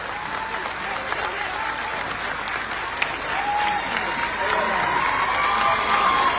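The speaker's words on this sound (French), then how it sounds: "Applaudissements pour Madame la Première Dame de la République, Lauriane Doumbouya, jusqu'à ce que je vous demande d'arrêter." A large audience at a Miss Guinea pageant in Kipé gives the First Lady a sustained standing ovation, with dense, continuous clapping that swells louder toward the end, plus some crowd noise and a faint voice underneath.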